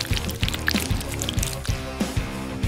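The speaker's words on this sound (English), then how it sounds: "Wait, let's fill it up with distilled water." Distilled water is drawn into a syringe with small pouring, trickling and dripping sounds over a rhythmic background beat.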